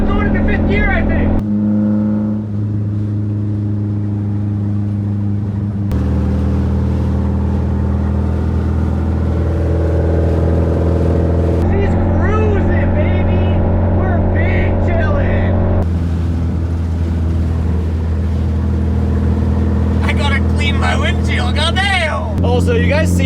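A drift car pulls hard in fifth gear with a loud, continuous engine drone from inside the cabin. The pitch holds and then shifts in steps, and a voice is heard over the engine.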